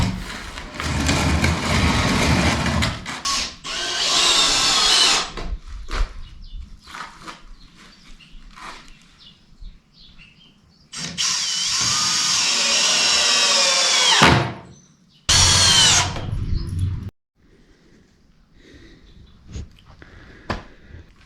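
Power drill driving the last screws into a wooden picnic table outdoors, with several loud bursts of whirring separated by quieter gaps, the longer runs lasting a few seconds each, alongside faint clicks and handling noises.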